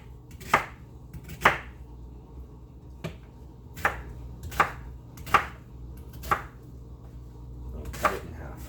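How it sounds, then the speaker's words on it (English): Knife cutting an onion into big pieces for a crayfish boil, about eight crisp, separate chops against a board at an uneven, unhurried pace, close by. "Onion, just cut her up into really big pieces."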